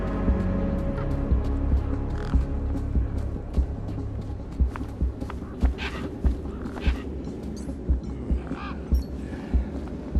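A squawking bird in the video game Beyond A Steel Sky 2 gives repeated sharp calls over a low droning hum, with short thumping hits recurring at a steady pulse.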